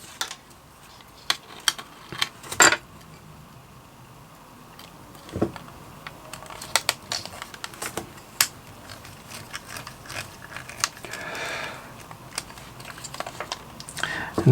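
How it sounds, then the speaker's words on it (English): Small plastic and metal parts of a Hero Collector Ecto-1 model kit being screwed together, with scattered close light clicks, taps and scrapes of a screwdriver and screws, no talk. "we need to screw it together"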